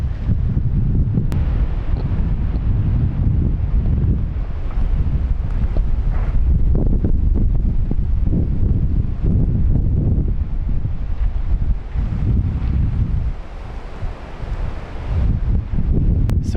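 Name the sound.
wind gusts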